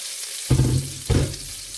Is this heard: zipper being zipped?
no